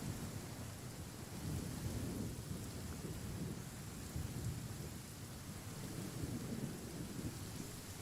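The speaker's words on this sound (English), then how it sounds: "Especially a thunderstorm like this." Thunder rumbles through a heavy downpour in the Fontaine region of the video game Genshin Impact, a dense, continuous wash of rain with low rolling booms underneath, no voices.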